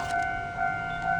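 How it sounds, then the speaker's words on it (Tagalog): A train approaches on a rainy day, giving off a steady two-tone horn or whistle drone that holds throughout over a rumbling low background, loud and continuous. "May parating na tren."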